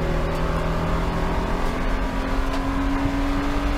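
Race car powering out of a corner on track, a steady loud engine drone with a rising tone holding throughout, heard close from inside the car.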